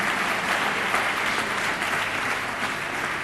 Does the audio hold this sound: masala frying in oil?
no